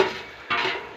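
A utensil scrapes through garlic and beef being stirred in a pot, giving a short sizzling, scraping shuffle with a louder stir halfway through.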